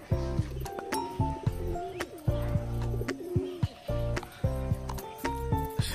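Pigeons, a feather-footed breed, coo close by in repeated low rounded phrases with short gaps between them, with no talking over the calls.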